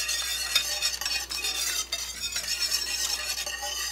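Spices being whisked into a curry sauce at a low simmer for a shrimp and snow pea dish, quick continuous scraping and swishing strokes with light metallic clinks over a soft bubbling sizzle.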